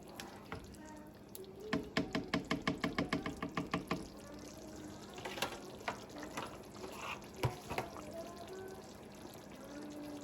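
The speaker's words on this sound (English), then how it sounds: "I just stir it" A spoon stirs tomato stew with green spring onion in a pot, a run of quick, evenly spaced scraping knocks followed by slower, irregular clinks and wet shuffling, close and fairly quiet.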